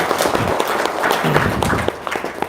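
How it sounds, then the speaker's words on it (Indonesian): An audience claps at a gathering, dense scattered applause, fairly close and steady throughout, with no voices over it. "Tepuk tangan dulu."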